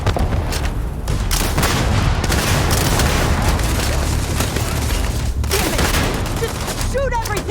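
Intense, unbroken gunfire in a Starfield combat encounter on very hard difficulty: loud overlapping shots and bursts pounding continuously, mixed with booms and shouted voices.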